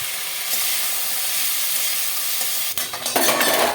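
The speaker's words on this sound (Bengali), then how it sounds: "সবজি ভাজা হয়ে গেছে" Vegetables sizzle steadily in a hot pan with five-spice seeds, dried chili, onion, potato, bottle gourd stems and turmeric; near the end, close stirring adds a burst of scraping and clatter.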